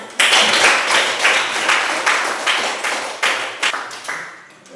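A small group claps hands in a classroom-style teaching session, with distinct bursts of clapping that recur roughly every half second and fade between beats, close and moderately loud with no talk.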